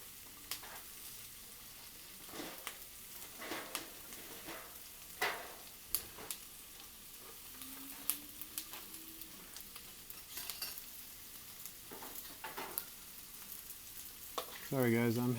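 Skirt steak sizzles on a 36-inch Blackstone griddle with a continuous frying hiss, punctuated by scattered clicks and scrapes of a metal utensil, heard close, with a brief voice near the end.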